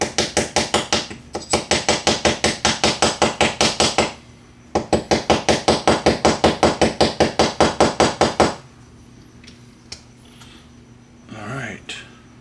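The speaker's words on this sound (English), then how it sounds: "I'm gonna get a little hammer, we're gonna get some little love tap, get this sucker in here" Rapid rhythmic strikes of a small hammer tapping an aluminum HiCapa airsoft pistol grip into place, two long bursts of close metallic taps separated by a pause, followed by quieter handling sounds.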